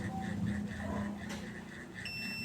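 A heat press controller's timer buzzer sounds in a rapid, evenly spaced series of beeps over a constant electrical hum, close and moderately loud, with no talking.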